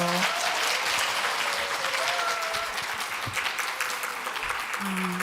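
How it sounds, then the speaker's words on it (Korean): An audience applauds steadily to welcome an international educator onto the stage at a Korean lecture on AI, biotechnology and education, a dense wash of clapping sustained throughout without speech. "김선 대표님을 박수로 맞아 주십시오."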